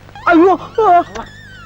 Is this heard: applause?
no